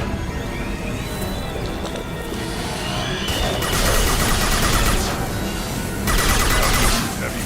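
A Claymore shotgun fires in the video game Mass Effect 2, loud broadband blasts rising over a constant, dense layer of combat noise in two heavy bursts.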